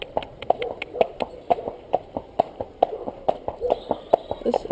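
A ridden horse's hooves clip-clop on a road near pushchairs and schoolchildren, a brisk, regular series of sharp close taps continuing steadily throughout.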